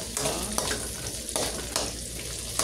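Onion and garlic sauté in a hot pan for ampalaya with egg, a close, steady sizzle broken by several scraping stirs at irregular intervals, with no talking.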